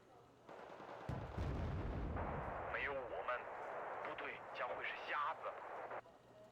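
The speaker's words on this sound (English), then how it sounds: "That's a Machbet firing at us." In a modern military video game, a Machbet anti-aircraft vehicle fires at the player with a rumbling burst of cannon fire, followed by rapid gunfire and blasts under players' talk.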